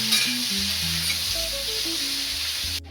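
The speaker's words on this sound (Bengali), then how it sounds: "পেঁয়াজগুলো ভেজে উঠিয়ে রাখবো পরে দেওয়ার জন্য" Onions fry in oil for birista with a steady, moderately loud sizzle. It holds throughout and cuts off abruptly at the end.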